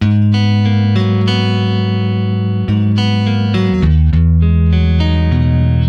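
An electric guitar runs through a Polychrome DSP Hypertune pitch-shifting effect, sustained chords with shimmering stacked harmonics, loud and close, changing chord every second or so, no talk.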